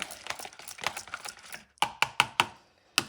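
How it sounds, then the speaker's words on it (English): An egg being beaten for a wet batter for fried alligator meat, a run of quick clicking whisk strikes against a bowl followed by four sharper, louder taps and one more after a short pause. "So the wet one, just batter that egg."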